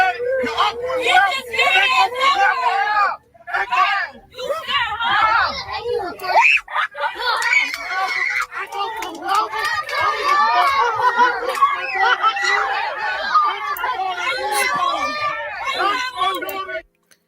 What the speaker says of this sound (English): the bus is in an uproar